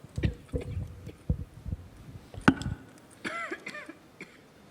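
Several sharp coughs scattered through the clip, close and fairly loud, followed by a brief voiced throat sound.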